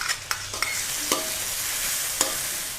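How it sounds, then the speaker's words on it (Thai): Pounded chili and garlic paste stir-fried in oil for a sausage instant-noodle stir-fry, a steady soft sizzle punctuated by a handful of sharp metallic clinks of a spatula on the pan, close by. "ผัดเครื่องค่ะ ให้หอมเลยนะคะ"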